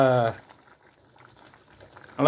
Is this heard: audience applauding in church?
no